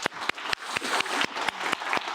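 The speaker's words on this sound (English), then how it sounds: "So give them a round of applause." Seminar audience applause after a panel discussion, steady clapping from a seated crowd with sharp pulses at regular intervals throughout the short stretch.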